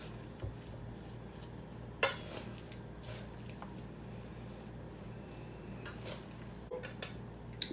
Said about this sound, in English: I'm using a fork to mix this.